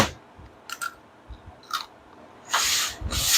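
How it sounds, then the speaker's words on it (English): Someone chews crunchy home-canned string beans up close, with several separate crisp bites and crunches, then a longer, louder burst of crunching near the end. "Good, nice and crunchy. String beans."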